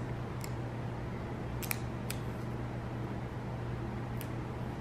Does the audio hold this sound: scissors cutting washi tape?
yes